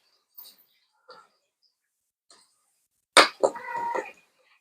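A pet cat named Joy meows up close, with a few faint soft chirps at first and then one loud, drawn-out meow near the end.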